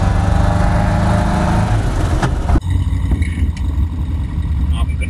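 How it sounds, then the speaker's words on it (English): A car engine drones loudly and roughly, sounding as if the exhaust has fallen off, then is cut by a sharp bang that leaves a harsher, rattling engine noise; no speech words are heard but voice-like sound mixes in. "it sounded like the exhaust had just fell off"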